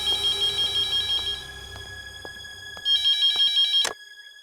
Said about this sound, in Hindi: फोन फोन करता हूँ। फोन।